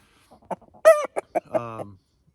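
Several meat chickens cluck and squawk close by in short bursts, one call drawn out into a rooster-like crow at the end.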